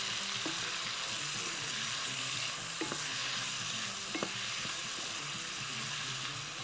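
Meat sizzling and frying in a pan with black pepper and salt, a dense continuous hiss with a few faint clicks of a utensil stirring, close and steady with no talk.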